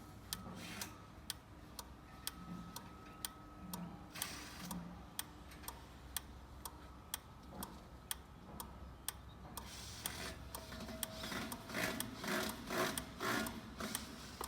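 A Segment 402 automatic swing gate leaf closes with a steady series of evenly spaced ticking clicks over a low motor hum, building to a denser rumbling near the end.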